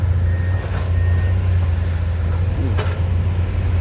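Deep, constant engine rumble of heavy dump trucks idling and moving nearby on a four-lane road-widening site, with a faint reversing beep and a brief hiss.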